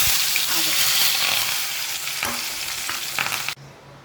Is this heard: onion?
yes